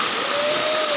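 Steady rain pours down in a rural village as a small child bathes outdoors in it, a dense, even hiss of drops hitting surfaces filling the whole second with no voices.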